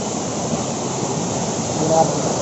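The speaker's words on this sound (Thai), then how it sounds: "ได้ยินเสียงน้ำไหลแล้วก็มีความสุขนะครับ" A forest stream flows steadily along a hiking trail near terraced rice fields, with a continuous close rushing wash of water at even loudness and no talk over it.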